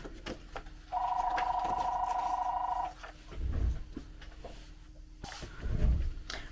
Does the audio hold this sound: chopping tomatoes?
no